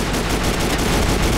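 Rapid gunfire in the Ace of Spades video game, a dense, loud, continuous burst of shots filling the whole short moment.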